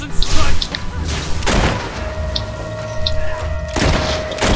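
Gunfire in the Fable 3 video game: a heavy burst of booming shots at the start, then isolated loud blasts around the middle and near the end, with game ambience between.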